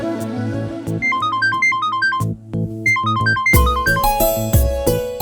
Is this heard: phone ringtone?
yes